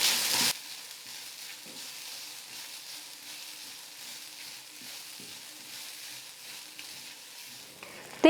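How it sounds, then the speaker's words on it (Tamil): A handful of grated coconut roasts in a pan for sambar rice, giving a soft, steady sizzle with faint stirring scrapes throughout, fairly quiet and with no talking. "தேங்காவும் நல்லா ட்ரையாக வர வரைக்கும் வறுத்துக்கலாம்."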